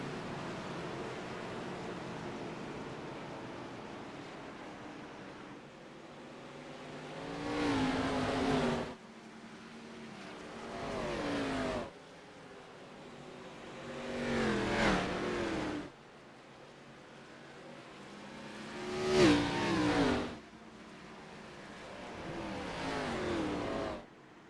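ARCA race cars on the dirt track at Bristol roar past in successive waves, engines swelling loudly as each group passes close, then fading, with several distinct surges and no talk heard.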